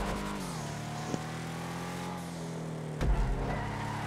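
Schyster Deviant muscle car in GTA Online, its engine holding a steady droning note that rises and falls slightly as it drives, with a brief thump near the end.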